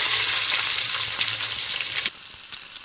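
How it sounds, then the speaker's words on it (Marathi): Vegetables with mashed tomato sauté in a large pot of veg pulao cooked caterer-style for 25 people, giving a loud, steady sizzle and frying hiss with occasional stirring scrapes, easing slightly near the end; no talking. "दोन मिनटं झालेले आहेत परतून घेऊया"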